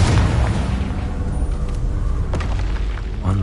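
A Confringo spell explosion in the video game Hogwarts Legacy, a heavy booming blast with a dense low rumble that stays loud and rolls on for several seconds.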